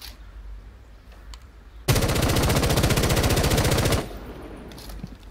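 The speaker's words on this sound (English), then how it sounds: "it's pretty easy to compensate for the recoil on this weapon, and it's just overall a very great gun" Automatic rifle fire from Ash's weapon in Rainbow Six Siege: one continuous rapid burst of about two seconds, loud and close, with quieter game ambience before and after.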